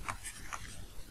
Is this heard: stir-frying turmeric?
no